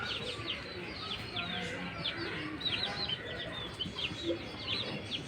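Pure-bred native chickens cluck and chirp softly in the background over a steady noisy ambience, with scattered short calls throughout.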